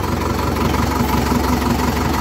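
A Sonalika tractor engine runs steadily at low revs outdoors, giving a continuous loud, even rumble throughout with no talking.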